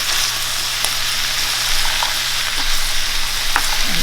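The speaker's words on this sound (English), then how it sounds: "I really want them to get soft and sauté before I add the tomatoes" Two pounds of green beans sautéing in a pan before tomatoes go in: a steady, close sizzle with a few faint clinks and stirring sounds, no talking.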